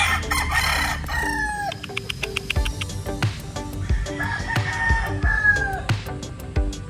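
Several roosters crow loudly one after another on a Philippine farm, long rising-and-falling calls overlapping amid clucking and farmyard bustle, close by.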